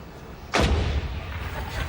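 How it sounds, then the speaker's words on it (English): A single loud cannon shot fired at one o'clock from Edinburgh Castle, a sharp boom followed by a lingering rumbling decay, heard alone. "every day a cannon is fired at 1 o'clock"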